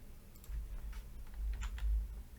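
Someone types on a computer keyboard, a short, quiet run of light key clicks in an uneven rhythm, close by and with no talking.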